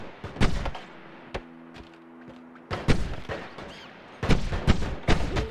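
Turret gunfire in the video game Noita: several sharp, loud shots in clusters, with a pair of bursts near the start and a denser volley toward the end, separated by a quieter stretch with a low steady hum.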